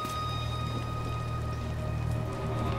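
Rain falls steadily in the video game God of War, a continuous even patter over a low ambient drone and faint tonal hum, with no voices heard.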